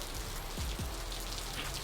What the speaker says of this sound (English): So we got a little rain situation going on here, Badge.